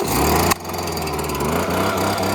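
Gas-powered leaf blower started with one pull of its cord, a sharp yank followed by the small two-stroke engine catching and running at a loud, steady idle.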